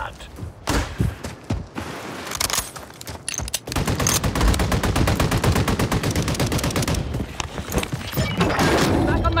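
Gunfire in the Warzone 3 video game, scattered single shots giving way to dense, rapid automatic bursts, loud and close, with a voice speaking briefly amid the shooting.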